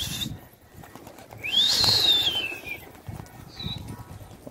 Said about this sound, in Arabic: واحد الحمام هيها